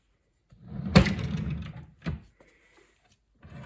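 A wooden drawer slides open with a sharp knock and a rolling scrape, followed by a second short thump and a faint rustle, close by in a quiet room.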